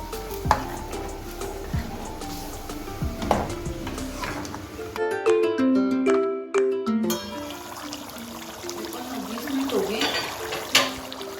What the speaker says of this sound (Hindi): और ये यखनी है, ये मैं इसमें शामिल कर दूंगी।